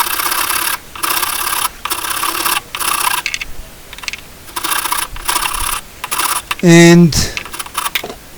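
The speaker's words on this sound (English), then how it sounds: "using a wood rasp here, so I'll speed it up." A wood rasp files a window cleaner's squeegee handle in steady, loud rhythmic strokes with short pauses between them, and a brief tonal sound rings out near the end; a voice speaks briefly.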